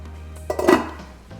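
A pot lid lifts off a covered pan of camarones rancheros cooking on low heat, a single short metallic clank and rattle, close and fairly loud, in an otherwise quiet kitchen.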